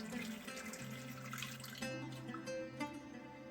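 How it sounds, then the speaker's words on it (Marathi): Water poured from a glass into a pressure cooker, a short faint splashing trickle with ringing tones from the pot, quiet and close, with no talking. "कुकरमध्ये ही आधी 1 पाऊण ग्लास इतकं पाणी घालते"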